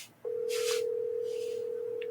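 A telephone ringback tone on an outgoing call, a single steady electronic tone held loud and close for about two seconds, with a little background noise around it.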